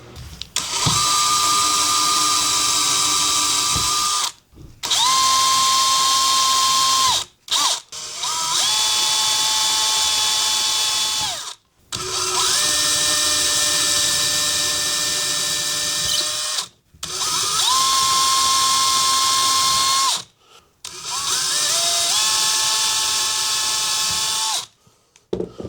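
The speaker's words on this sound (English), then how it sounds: "when drilling these holes for this, I like to get me a drill bit" A power drill bores holes into wood for a guitar stand, whining in several long sustained bursts separated by brief pauses, loud and close with a steady pitched motor tone.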